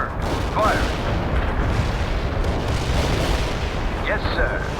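Heavy artillery barrage in the World in Conflict: Soviet Assault battle game: a dense, continuous rumbling roar of distant shelling that holds steady throughout, with a few faint high chirps riding on top.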